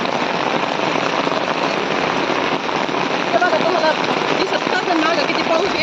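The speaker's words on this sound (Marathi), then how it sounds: "पहिला पहिला पाऊस आहे" First monsoon rain pours down steadily, a dense continuous hiss of drops on surfaces throughout, loud and close, with faint voices underneath.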